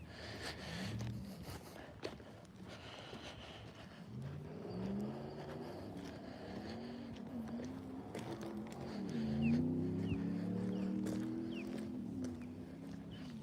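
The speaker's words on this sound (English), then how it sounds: "there's a lot of recreational boating that goes on there. And they have like some pretty big engine speedboats." Distant big-engine speedboats on a river, a low droning engine hum rising and falling in the background over faint outdoor ambience, with no talk.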